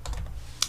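A few quick key taps on a computer keyboard, ending in one sharper spacebar press, sound close and fairly soft over a low background hum.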